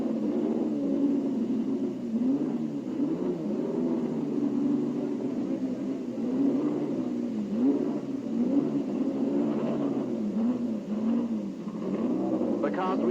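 Racing sports cars from the 1970 World Championship in Project Cars 2 run laps of a wet circuit, a steady droning engine note with wavering pitch and passing swells, continuous and moderately loud with no voices.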